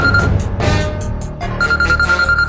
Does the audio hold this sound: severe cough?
no